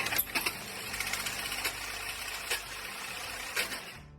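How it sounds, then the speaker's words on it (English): Hyundai Tucson engine making a strange noise, running steadily with a continuous mechanical whir and faint periodic ticks or knocks, moderately quiet and without talk. "This Hyundai Tucson came in because of a strange noise coming from the engine."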